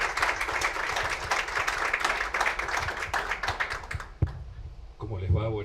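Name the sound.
audience applause welcoming a speaker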